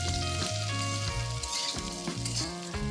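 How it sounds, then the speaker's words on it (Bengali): Potatoes fry in a pan with ginger and spices, giving a steady, continuous sizzle that runs throughout under a melodic backing track. "আলুগুলো এই মশলার সঙ্গে চার থেকে পাঁচ মিনিট ধরে ভেজে নিতে হবে"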